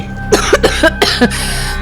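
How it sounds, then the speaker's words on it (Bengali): A run of sharp, close coughs in quick bursts, about five harsh hacks in under two seconds, loud and with no talking, fitting a lingering cough that is slow to clear up. "কাশিটা পুরোপুরি নির্মূল হতে আরো কটা দিন সময় লাগবে"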